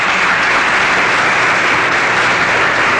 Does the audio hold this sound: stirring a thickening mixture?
no